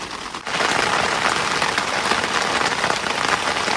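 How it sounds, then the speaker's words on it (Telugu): Heavy rain pours down at a solo night campsite, a dense, steady roar that begins abruptly after a brief quiet moment and stays loud and unbroken throughout. "వాన దంచుకొచ్చేసింది."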